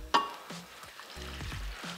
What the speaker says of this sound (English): So while my eggs are cooking